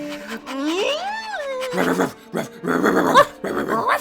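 A person imitates a dog with a rising, howling whine that breaks into a string of rough, growly barks and yaps, loud and close.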